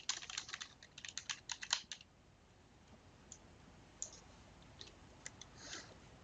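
Someone types on a computer keyboard nearby: a quick burst of clicking keystrokes, then a pause and a few scattered, softer taps, with no speech.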